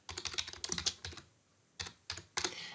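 Someone types a comment on a computer keyboard in quick, light bursts of key clicks, pausing once before a few more clusters of taps; quiet and close, with no voices.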